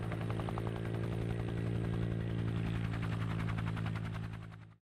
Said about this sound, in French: L'atterrissage d'hélicoptère.